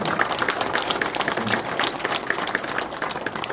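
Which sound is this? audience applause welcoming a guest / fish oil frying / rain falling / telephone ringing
audience applause welcoming a guest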